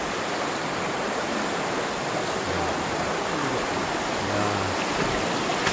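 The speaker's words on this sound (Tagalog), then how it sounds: "Lakas ng tubig oh." Strong rushing water at Pagsanjan Falls in Laguna, a loud unbroken roar and hiss that holds steady throughout, close and enveloping with no breaks.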